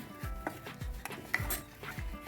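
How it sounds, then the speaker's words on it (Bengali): Spoon stirring beef curry in a cooking pot, with a series of soft scraping strokes and low knocks against the pot repeating at a steady, unhurried rhythm close by. "একটু পরে পরে নেড়ে দিব যেন তোলাতে লেগে না যায় এই যে নেড়ে দিলাম"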